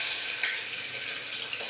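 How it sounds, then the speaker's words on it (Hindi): Chopped onions sizzle steadily in hot oil in a pan, a continuous bright hiss with faint crackles, close and fairly quiet, no voices. "अब इसमें हम डालेंगे प्याज, प्याज ऐड करेंगे।"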